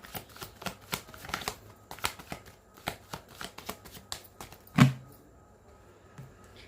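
Tarot cards being shuffled by hand, a steady run of quick papery riffles and flicks close up, ending in one sharper tap as the deck is squared, with no talking.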